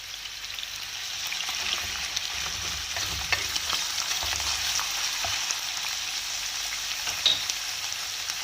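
Two hundred grams of minced meat fries in a glass of oil in a pan, a steady crackling sizzle with soft stirring scrapes running throughout at close range.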